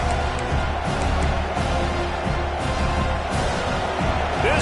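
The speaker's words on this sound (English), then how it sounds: "This crowd bringing the energy and noise early" A college football stadium crowd roars with a broad, sustained murmur and scattered cheers during an Arizona State versus Auburn game, with a commentator's voice faintly woven through the din.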